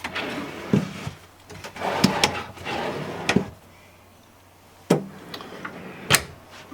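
Cedar-lined drawers in a 2017 Forest River Cardinal 3455 RL fifth wheel slide open and shut close by, giving several rolling runs and sharp thumps and knocks spaced across a few seconds, with quiet gaps between.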